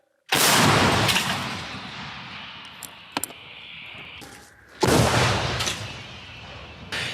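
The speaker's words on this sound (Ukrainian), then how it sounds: "ще один снаряд полетів на голови окупантів" Two loud booming blasts from an artillery gun firing shells, a few seconds apart, each with a long rumbling decay; a faint metallic clink between them.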